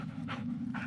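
A dog panting in the horror video game Blair Witch, with two or three quick breathy pants over a steady low ambient drone, close and alone without voices.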